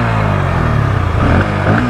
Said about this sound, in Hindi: आपको मैं एग्जॉस्ट का साउंड सुना देता हूँ।